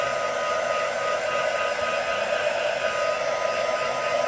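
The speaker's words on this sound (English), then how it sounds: "And then we're just going to heat set that." A heat tool blows continuously to heat-set paint on a card, a steady, close whirring hiss of air that holds level throughout with no talking.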